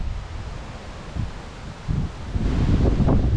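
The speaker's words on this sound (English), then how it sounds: "I'm yelling at the moment because it's really windy" Strong wind buffets and roars, rising in gusts and growing louder toward the end, with rustling mixed into the blustery noise.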